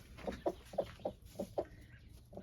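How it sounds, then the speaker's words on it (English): Backyard hens cluck softly in their coop, giving about seven short, evenly spaced clucks at close range against a quiet background. "4 chickens are coming in here."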